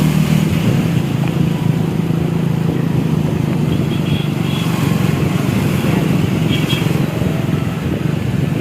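Continuous road traffic rumbles past on the Ratnagiri highway near Kolhapur, engines droning and tires hissing on the road with no break.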